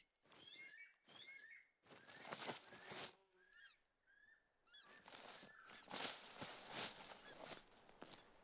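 Repeated honking bird calls in The Hunter: Call of the Wild, several separate goose-like bursts in irregular groups with short gaps, moderately close and heard without talk.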